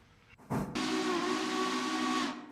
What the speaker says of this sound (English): Heard that whistle.